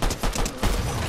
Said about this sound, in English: this guy needs to stop shooting at us